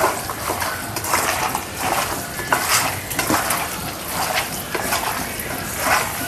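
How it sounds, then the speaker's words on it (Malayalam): Beef coated with chili and turmeric powder is stirred in a pot, giving a steady scraping, clinking stir with a light sizzle underneath. The sound runs continuously and close at moderate loudness. "എന്നിട്ട് ഒന്ന് ഇളക്കി വയ്ക്കണം."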